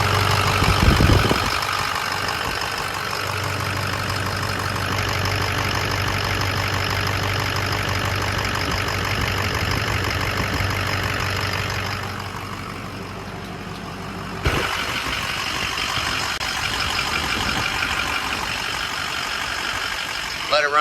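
A rebuilt Ford 6.0 Powerstroke diesel idles loudly and steadily with a knocking clatter, then a sharp change partway through, with voices talking near the running engine.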